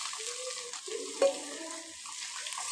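Jackfruit seeds frying with ground spice paste in a pan give a soft, continuous sizzle. A few tonal clinks and scrapes of stirring sit in the middle, with one brief louder knock.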